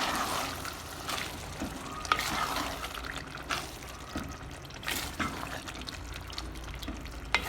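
Cream is stirred into white keema in a karahi, giving soft wet squelching and scraping with occasional sharp clinks of the spoon against the pan, quiet and close, with no voices.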